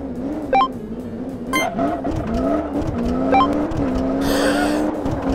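Simulated car engine from Car Mechanic Simulator 2015 revving during a drag race, a steady loud drone with pitch rising and dropping through gear shifts, a few sharp chirps and a hissing burst near the end.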